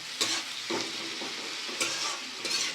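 Onions frying in oil in a wok for biryani, a steady close sizzle broken by several scraping stirs of a spatula, with no talk.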